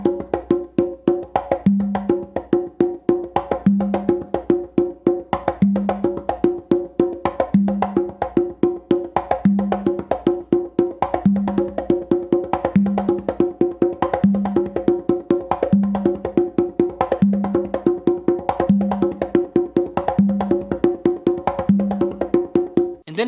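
Congas played in a steady, looping coordination pattern, open tones shifted onto the tumba on the dominant side among regular slaps and muted strokes; close, even and continuous with no talking.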